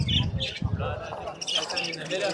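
Small birds chirp and squawk in a crowded bird market in Margilan, Uzbekistan, a busy overlapping chatter of calls mixed with voices and market bustle.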